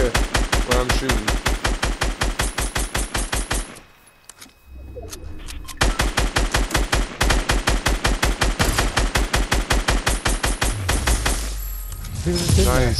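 Gunfire in a first-person shooter game: long rapid automatic bursts, loud and close, breaking off briefly before resuming, with a player talking at moments.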